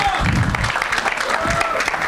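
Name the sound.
audience applause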